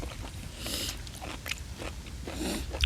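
Close, crisp crunching bites and chewing of crackly grilled pork stomach skin, several distinct crunches in a quiet setting.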